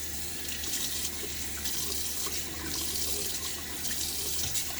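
A tap runs steadily into a sink to rinse shaving lather off an arm, a continuous hiss and splash of water, moderately faint and close, with no talk.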